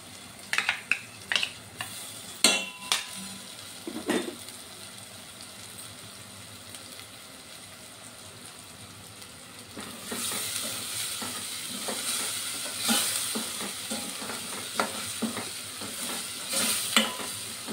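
Cashew paste masala frying in oil in a pan, with several sharp spoon knocks and stirring scrapes at first, then a louder sustained sizzle from about ten seconds on, close by.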